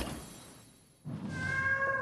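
A single drawn-out cat meow from the video game Horizon Walker rises after a brief quiet gap, clear and close, with a tonal, slightly synthetic quality.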